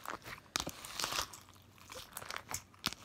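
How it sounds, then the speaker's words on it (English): Crunchy slime packed with plastic googly eyes is squished and pressed by hand up close, giving dense crackling, crinkling and popping with a few sharper crunches throughout. "it's this googly eyes crunchy slime"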